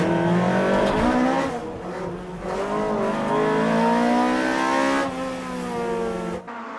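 Toyota AE86 race cars battling through a hairpin at Tsukuba circuit in an N2 Cup race, with loud, close engines revving hard and rising and falling through gear changes, and no pause in the roar.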